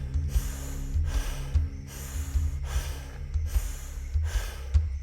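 Slow, steady breaths repeat during a breathwork exercise: about six rhythmic airy inhales or exhales, close and even, over a low constant hum.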